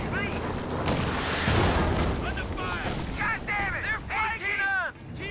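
An anti-tank gun firing sabot rounds in the World War II strategy game Company of Heroes 2, heavy booming shots amid battle noise, with a commentator talking excitedly throughout.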